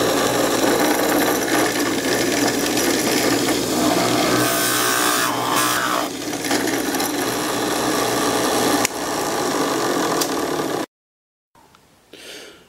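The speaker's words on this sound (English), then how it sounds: "So I need to drill a hole in this wooden ball and this size drill bit." A Forstner bit bores a hole into a wooden ball, a steady, loud grinding and whirring drill noise that runs continuously for most of the time, then cuts off abruptly and leaves brief faint rattles.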